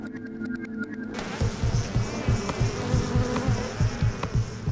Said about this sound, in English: These worker bees spend their entire lives traveling from their hive to flowers, collecting pollen and flying back again.